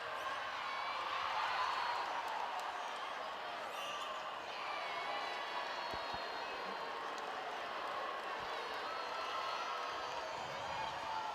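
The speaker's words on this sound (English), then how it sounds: "the crowd really enjoying this game tonight" Crowd noise from spectators at a Botswana versus Jamaica netball match fills the arena steadily throughout, a broad continuous roar with occasional ball bounces and court sounds, no distinct bursts of cheering.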